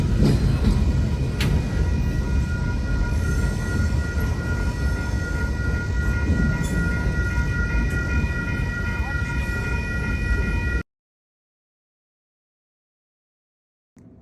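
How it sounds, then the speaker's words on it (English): A northbound Union Pacific train passes close by, with a loud, rumbling roll of wheels and cars and sustained tonal horn or whistle notes layered over it, then cutting off abruptly into silence near the end. "The one and only train for Friday would be a northbound UP"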